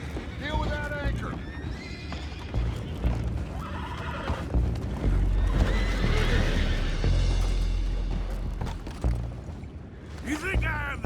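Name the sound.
horses neighing below deck, from video game Red Dead Redemption 2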